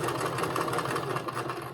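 A sewing machine stitching fabric for a stuffed fish, running in a steady close whir with rapid needle pulsing, going slowly around a curve.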